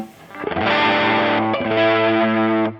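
Electric guitar played through a Lateral Sound Linda fuzz and distortion pedal set for low-gain overdrive with boosted mids: loud, sustained driven chords ringing out close and alone.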